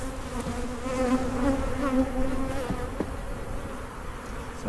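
Agitated honey bees in a sealed-up hive that cannot smell their queen buzz loudly and continuously up close, a dense steady drone with shifting pitches and no voices.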